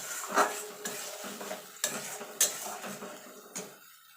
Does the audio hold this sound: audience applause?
no